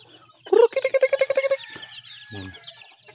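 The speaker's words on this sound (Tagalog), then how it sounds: "Ito yung ating mga manok." Chickens and chicks at close range: a sharp squawk followed by a quick run of rhythmic clucks, then a softer low cluck, with faint chirping in the background.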